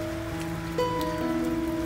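Rain falls steadily on a moored barge in rural Vietnam during fish feeding time, a continuous close patter with a low engine-like hum underneath, no voices.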